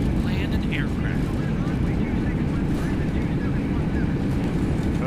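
Airliner thrust reversers roar during a simulated landing rollout, a steady broad rumbling rush holding loud throughout with no clear change.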